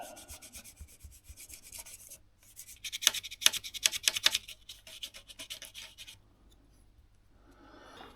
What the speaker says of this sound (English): with a pencil you just run it around the edge.